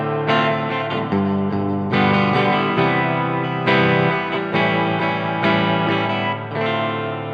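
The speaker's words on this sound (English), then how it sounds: "What you just heard is a staple in jazz music, especially the 2-5-1 chord progression." An electric guitar strums a jazz 2-5-1 seventh chord progression, sustained chords changing every second or so with a chorus-like effect and light reverb, played alone.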